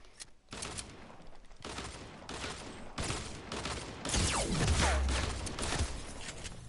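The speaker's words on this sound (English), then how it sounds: "They shoot so fast." Rapid video game gunfire, with bursts of quick shots crackling close by over several seconds, alongside sharp impacts and a rising, denser stretch of fire toward the end.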